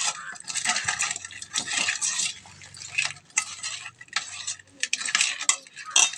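Raw fish pieces mixed with turmeric in a bowl, with wet squelching and clinking strokes coming in uneven bursts, close up and without speech.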